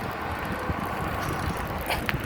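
Bicycle chain whirs and ticks lightly as the bike rolls along, with a soft wind rush and a couple of faint clicks.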